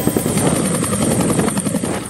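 A helicopter transporting police cadets flies close by, its steady loud rotor thump and engine whine continuous throughout with no talking.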